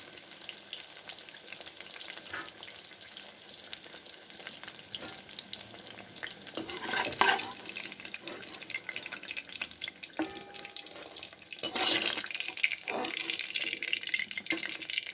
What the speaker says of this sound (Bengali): এখন এগুলো উঠিয়ে নেব বড়াগুলো